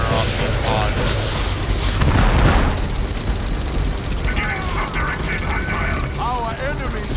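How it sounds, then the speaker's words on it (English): Drop pods launched in the Warhammer 40k strategy game Dawn of War 3: a loud, continuous barrage of booming impacts and rumbling blasts, with a bigger burst partway through and faint battle clatter and voice-like calls over it. "I'm going to actually fire off these pods."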